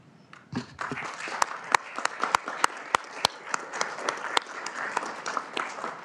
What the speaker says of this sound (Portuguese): Todos aplaudem.